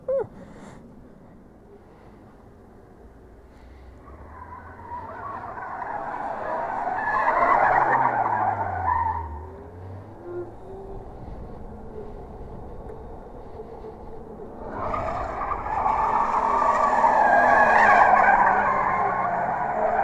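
Car tires skid and screech in two long, loud bursts, one rising then fading and a second sustained squeal near the end, over a low engine rumble.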